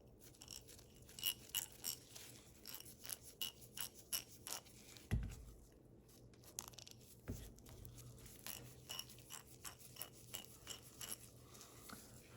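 Freshly greased vintage Ace Hardware ratchet being worked back and forth: a quiet series of close, crisp clicking bursts at an uneven rhythm, with a single sharper knock midway.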